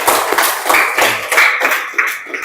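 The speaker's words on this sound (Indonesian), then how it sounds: "kita beri aplaus dulu ya" Classroom students clapping together in a short, close burst of uneven handclaps lasting a couple of seconds.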